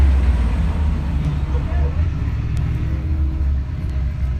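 A custom-built Ultra4 race buggy with portal axles and King Shocks runs the Wild West 100 race, a loud steady engine roar and rumble heard from nearby, with a commentator talking over it.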